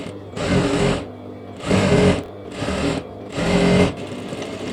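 Sewing machine stitching a lehenga lining for a 12-year-old girl's skirt, running in four loud bursts of rapid stitching with brief quieter pauses between them.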